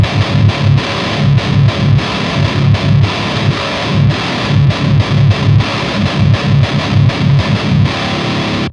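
A distorted nine-string guitar plays low diminished power chords, chugging in a tight, syncopated rhythm with short muted gaps, loud and dense throughout.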